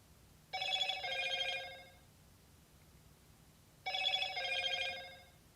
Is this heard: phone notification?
yes